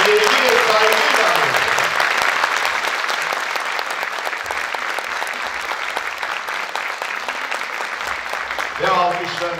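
Loud, sustained audience applause for the singer and teacher, dense clapping throughout with a voice and music-like tones surfacing briefly near the start and again near the end.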